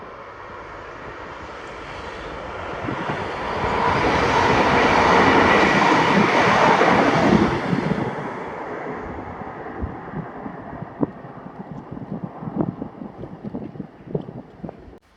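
A ScotRail class 385 electric multiple unit on the Edinburgh to Glasgow Queen Street line passes close by, its roar swelling to a peak and then fading into rattling wheel clatter with wind buffeting the microphone.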